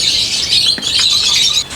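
Pet parrots and lovebirds at a bird-breeding setup, including a gray parrot, sun conure and lovebirds, give steady high-pitched chirps and squawks that blend into a continuous bird chatter throughout.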